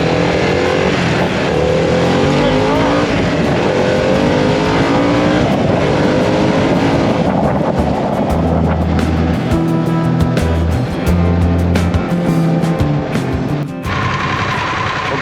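Harley-Davidson Pan America motorcycle riding in sport mode on pavement, its engine a loud, continuous roar with rising and falling revs and gear changes, wind rush underneath throughout.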